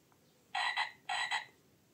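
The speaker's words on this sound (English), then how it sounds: "Frog." A frog croaks twice in quick succession, each a short, raspy double-pulsed call, clear against near silence.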